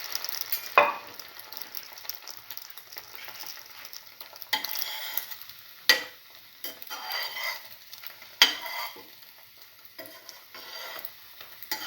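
Egg-dipped bread fries in a pan with a soft, uneven sizzle, broken by several sharp clinks and scrapes of a utensil against the pan.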